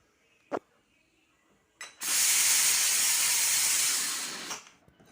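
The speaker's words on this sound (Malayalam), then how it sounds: "ഒന്ന് അടുപ്പത്ത് വെച്ചിട്ട് നല്ലതുപോലെ ഒരു 3 വിസിലടിക്കണം കേട്ടോ." A pressure cooker of pumpkin on the stove releasing steam: a couple of sharp clicks, then a loud, steady rushing hiss lasting a few seconds before it tapers off, close by with no talking.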